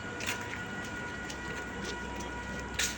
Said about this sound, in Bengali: এই দেখো শান্তিপুর স্টেশন থেকে আমাদের ট্রেন ছেড়ে দিল